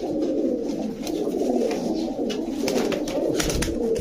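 Caged high-flyer pigeons coo continuously in low, rolling throaty calls, several birds overlapping close by, with some fluttering and rustling in the cage.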